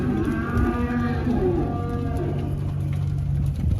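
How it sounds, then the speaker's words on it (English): Steers lowing in a long, deep, drawn-out moo that fills the clip, loud and close, with no people talking. "I'm bringing these steers"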